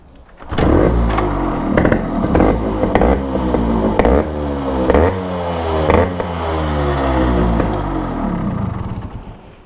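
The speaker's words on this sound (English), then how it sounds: "let me start both the motorcycles." Two Yamaha RX100 two-stroke motorcycles from 1988 and 1989, one stock and one modified as a scrambler, start and rev together, loud and close, with repeated throttle blips and a rattly, buzzing idle.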